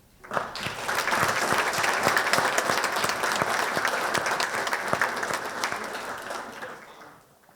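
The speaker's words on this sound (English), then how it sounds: "we'll just give you a round of applause for your link in the chain of survival" Audience applause for a peer support team at a chain of survival event, swelling quickly into a full, steady round of clapping that holds for several seconds before fading out.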